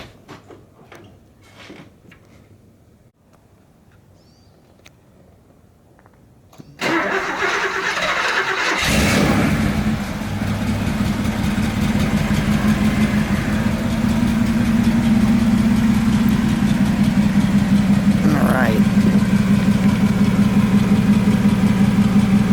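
A 1976 Mercedes 450SE W116 with a transplanted 6.9-litre M100 V8 cranks after a quiet stretch, fires up loudly and settles into a steady, rumbling idle close by.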